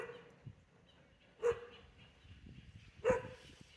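Two short dog barks, spaced apart, sound at moderate distance over faint background noise.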